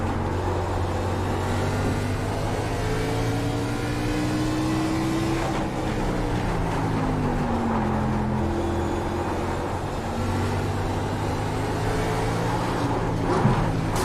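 A K&N Pro Series race car in iRacing at Myrtle Beach drones through a time trial, its engine tone sliding down and back up as it brakes and accelerates, steady and loud with no talking.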